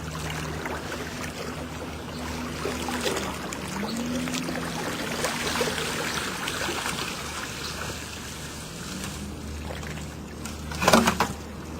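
A lake rake's tines drag back along the bottom of a leaf-filled pond, giving a steady wash of churning, trickling water with a louder splashing surge near the end.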